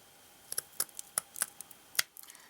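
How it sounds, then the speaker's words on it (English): Scissors snipping the frayed ends off a strip of dried burlap, a quick series of about a dozen close, crisp cuts. "you want to make sure that you trim off any of the ends that are going to give you trouble"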